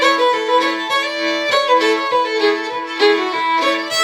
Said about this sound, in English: And one chord per beat would sound like this.